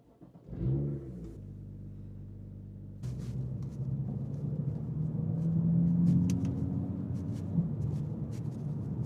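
A BMW M2 engine starts with a short whirring crank and settles into a low idle, then a deeper, steady rumble builds with a slight rev, heard from inside.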